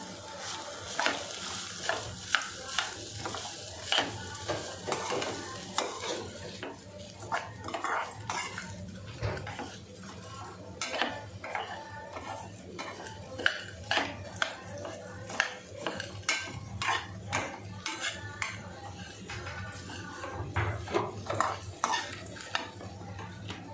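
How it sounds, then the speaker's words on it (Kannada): Grated fresh coconut being stirred into okra gojju in a cooking pot, with steady scraping, scooping and light metallic clinks of a spoon against the vessel, continuous and close, with no speech. "ಹಸಿ ಕೊಬ್ಬರಿ ತುರಿದಿಟ್ಕೊಂಡಿದ್ದು ಒಂದು ಹಿಡಿ, ಹಸಿಕಾಯಿ, ಇದನ್ನು ಮಿಶ್ರಣ ಮಾಡ್ಕೊಂಬಿಡಿ"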